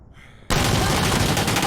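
Dense, sustained automatic gunfire erupts abruptly after a brief quiet moment in a competitive multiplayer shooter match, continuing loud and close without pause.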